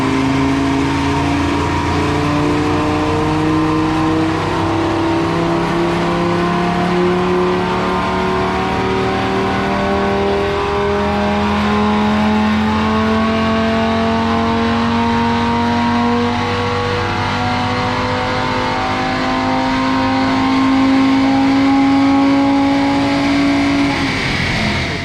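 A 2020 Audi RS3 engine revs steadily on a dyno, its tone climbing in long sustained pulls, loud and continuous with no voices.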